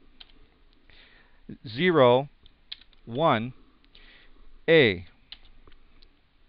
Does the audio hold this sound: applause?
no